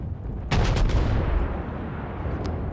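Guns of the Scharnhorst battleship firing in the World of Warships video game: a loud, booming salvo of several close blasts in quick succession that fades into a long rumbling tail.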